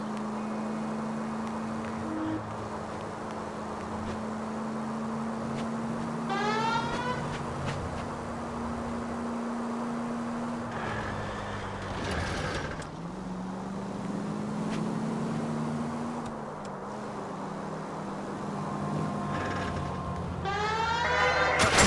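A car engine drones steadily while driving in L.A. Noire. Shifting whines and brief tyre and wind swells rise over a constant hum, and a few sharp sweeping tones cut in now and then.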